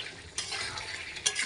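Chicken with salt and turmeric fried and stirred in a pan, a quiet sizzle with a couple of brief scraping strokes of the spatula over about a second and a half.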